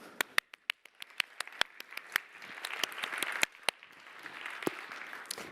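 An audience at a training programme's closing event claps, starting with sharp separate claps that build into denser, steady applause, moderately loud and without talk.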